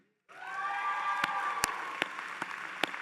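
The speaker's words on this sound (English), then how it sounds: "would you please stand so we can applaud each of you?" Applause from a commencement audience for a pharmacy valedictorian, a steady wash of clapping that swells in quickly and holds, with a few sharper individual claps popping out above the crowd.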